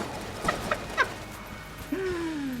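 Chickens in the video game Enter the Gungeon, a few short clucks in quick succession, followed by a gliding electronic tone, all fairly faint over a low steady background.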